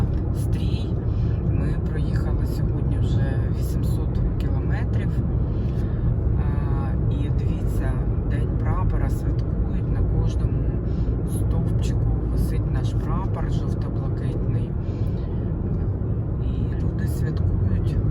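Inside a car on a long road trip in western Ukraine, a loud, steady road rumble and engine drone continue the whole time, close and unbroken, while people talk quietly over the noise.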